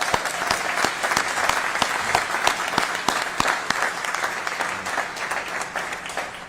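Applause at a Seattle mayoral bill signing at King Street Station, a steady round of clapping from a modest crowd, fairly close and continuous throughout.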